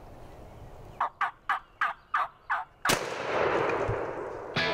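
Six sharp turkey gobbles ring out in quick succession during a wild turkey hunt, followed by a single loud, close gunshot whose boom lingers before a faint final rustle.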